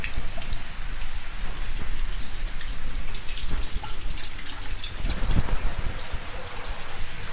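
Heavy rain pours down steadily with a dense, loud hiss of drops on surfaces and standing water, one brief low thump partway through and no voices.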